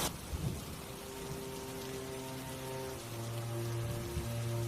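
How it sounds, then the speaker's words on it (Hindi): Heavy torrential rain with rolling thunder, a steady loud downpour with low rumbling swells building toward the end, no voices. "तुरंत आसमान में बादल घिर आते हैं और तेज मूसलाधार बारिश होने लगती है"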